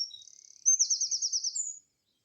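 Birds of different species call and answer each other, a thin high whistle followed by a louder rapid trilling phrase, clear and close against silence.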